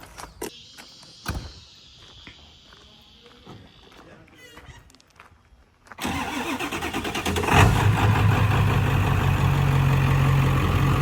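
Ford 7.3 Powerstroke diesel pickup cranks and fires after some quiet handling noise, then settles into a loud, close, rattly idle while people talk over it.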